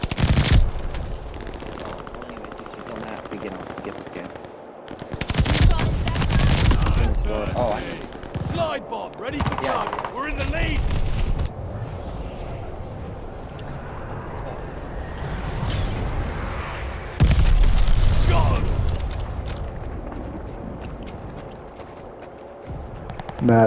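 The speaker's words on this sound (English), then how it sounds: "No, the fucking gunshots." Bursts of rapid automatic gunfire and single shots in a Call of Duty: Vanguard match, loud and close, coming in irregular clusters with quieter gaps between them while players talk over the action.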